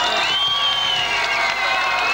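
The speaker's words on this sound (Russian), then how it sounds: "Дорогие краснодарцы, буря аплодисментов, овации нашим гостям, севастопольцам." A large concert audience at a folk festival in Krasnodar applauds and cheers for the visiting Black Sea Fleet ensemble from Sevastopol, a dense, sustained roar of clapping and shouts filling the hall.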